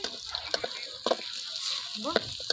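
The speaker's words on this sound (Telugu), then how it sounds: "ఆలు అయితే మంచిగా ఫ్రై అయిందండి" Potatoes frying in a pan for aloo fry curry, a soft steady sizzle broken by a few scraping stirs near the pan.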